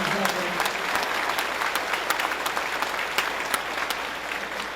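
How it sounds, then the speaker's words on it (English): Sustained applause from an indoor crowd at a museum ribbon cutting ceremony in Rochester, New York, steady dense clapping filling the whole stretch at close range. "let's give a round of applause to our town executive"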